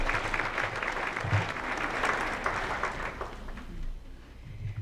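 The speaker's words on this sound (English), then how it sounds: "Let's have a round of applause for Todd." Audience applause at a county State of the County address, steady clapping from a crowd filling the whole span before tapering off near the end.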